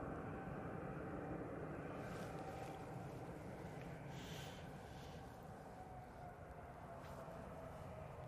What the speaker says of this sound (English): I can hear a Ryanair 737 that's coming out